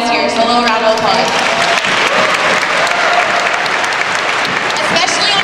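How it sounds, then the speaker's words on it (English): A room of relay team captains, teams and committee members at a Relay For Life charity event gives a steady round of applause, loud and sustained throughout, with a voice or two over the clapping. "a little round of applause"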